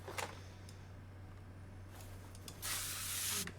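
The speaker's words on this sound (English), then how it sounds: "WD-40 this up." WD-40 lubricant sprayed onto car axle parts around a wheel hub and knuckle housing: a short hiss early on, then a longer, steadier spray burst near the end, close by over a constant low hum.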